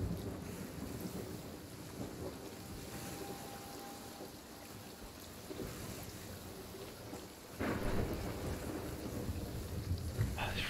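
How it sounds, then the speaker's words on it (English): Rain and rolling thunder in the pirate video game The Hungering Deep, a steady hiss of rainfall with low rumbles that swell louder near the end. "It's freaking rain."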